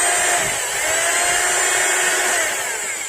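A rotary hammer drill running in chisel mode with the hammer action not engaging, so only the motor whines, a loud, steady high-pitched electric drone held for a few seconds, close up.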